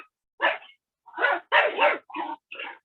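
A dog barks and whimpers in five short bursts separated by brief pauses. The yips are close and fairly clear, with a few whiny, strained notes mixed in, and no one speaks over them.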